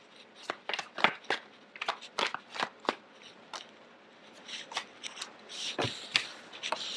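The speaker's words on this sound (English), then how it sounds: "There's a message here that I'm trying to get out, but I need a few more cards." Tarot cards are shuffled by hand in a steady run of crisp riffles and slaps, close and fairly loud, continuing for several seconds without speech.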